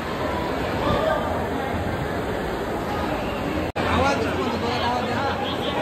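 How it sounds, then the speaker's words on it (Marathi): A dense crowd fills Siddhivinayak temple on Angarki Sankashti Chaturthi, a loud, steady babble of many voices and chatter throughout, broken by one brief cut, with a person speaking nearby. "बघा आज चतुर्थी निमित्त किती गर्दी आहे बघा"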